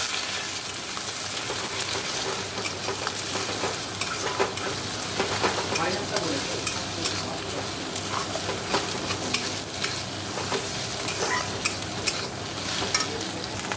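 Eggs and onion frying together in a pan, with a steady dense sizzle and occasional stirring scrapes running continuously throughout at close range, without any voices.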